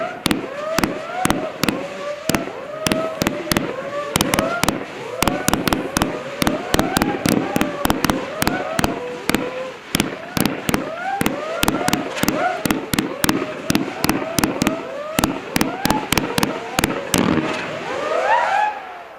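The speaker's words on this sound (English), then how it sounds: "So this is a new humming firework from Celtic Fireworks this year." A Celtic Fireworks Hullabaloo humming firework cake fires a long, rapid series of sharp bangs, each followed by a whirring, rising hum, loud and continuous for almost twenty seconds.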